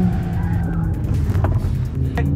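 Mercedes-AMG A45S all-wheel-drive hatchback at full throttle, a loud close engine roar with short bursts of tire noise, heard alone without talk.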